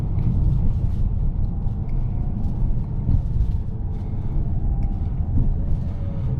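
A 2025 Ford Maverick Lobo's engine rumbles steadily from inside the cab as its 7-speed transmission shifts down and up in quick succession, the drone rising and dipping slightly with each change.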